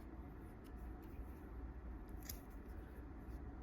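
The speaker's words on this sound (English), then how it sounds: "let's go ahead and cut that tag right there real quick" Scissors snipping the tag end of fishing line tied in a Centauri knot, with a faint, quick click or two of the blades very close over quiet background noise.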